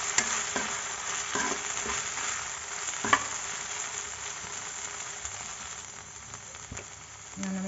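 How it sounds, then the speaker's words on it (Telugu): Fried okra being stirred in a pan, a steady quiet sizzle with occasional sharp scrapes and taps of a spoon against the pan, close and continuous, no talking. "మనం ఇప్పుడు ఇందులోకి ఇందాక వేయించుకున్న బెండకాయలు వేసుకోవాలి. వేసుకొని బాగా కలుపుకోవాలన్నమాట."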